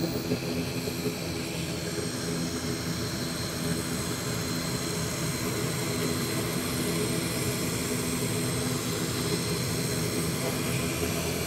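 Loud, steady aircraft engine roar at Palaly airport in Jaffna, a dense continuous drone filling the whole stretch with no break.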